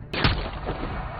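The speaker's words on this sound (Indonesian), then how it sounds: "sniper pun menembaknya." A single sharp sniper rifle gunshot from a film, a loud close crack followed by a short booming tail that fades within about a second.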